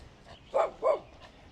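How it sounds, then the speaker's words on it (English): A few dogs bark along a countryside road in YunFu, China, giving two quick, moderately loud barks close together, with no talking. "Few dogs up here."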